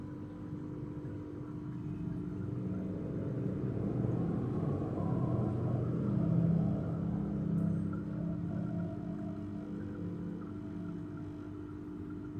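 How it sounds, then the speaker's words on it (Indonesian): An aquarium aerator pump runs with a steady low mechanical hum and rumble throughout, the small motor droning continuously without pause. "ini mesin dari aerator itu seperti ini"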